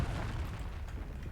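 A Confringo spell explosion in the Hogwarts Legacy video game, a short, dense boom with a rumbling, broadband burst that fades quickly.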